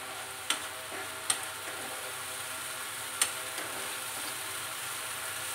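Maggi manchurian masala thickening in a pan, a quiet steady sizzle and bubbling with three or four brief sharp clicks of a spoon against the pan, no talking.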